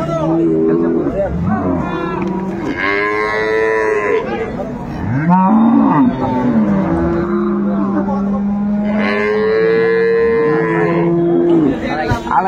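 Dairy cows moo repeatedly in long, loud, drawn-out calls, one after another, with a busy cattle market din and traffic noise behind them, at Ambari market, Dinajpur.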